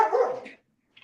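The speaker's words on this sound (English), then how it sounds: "it's my dog yelling" A single loud, close dog bark rings out and fades within about half a second, followed by near silence and a faint short sound at the end.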